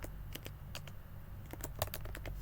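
Quiet, rapid computer keyboard typing while entering web code: a steady run of close, light key clicks with uneven rhythm and no talking.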